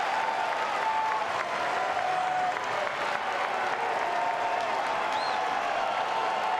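A baseball crowd at Florida State vs Mississippi State cheers and applauds continuously, a dense, sustained roar of clapping and voices with a few whistles throughout.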